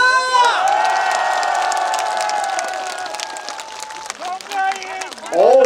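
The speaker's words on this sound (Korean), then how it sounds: "박수 함성 발사!" A festival crowd at an outdoor bamboo festival concert cheers and applauds loudly and continuously, many voices shouting and whooping over dense clapping, fading slightly before a fresh swell at the end.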